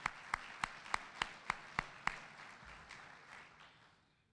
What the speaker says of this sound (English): So let's give some applause to the state of Maine.